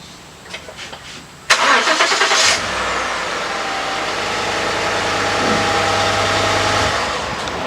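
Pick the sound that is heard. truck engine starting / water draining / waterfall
truck engine starting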